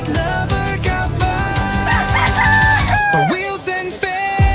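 Chickens at a Malabon pet market in the Philippines, with rooster-like crowing calls mixed into a dense, continuous din that also carries dog barks and tonal chatter throughout.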